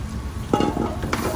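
Crushed roasted eggplant going into a pan of cooked spices, a brief soft sizzle and scrape as it is stirred in, with two small clatters of the utensil.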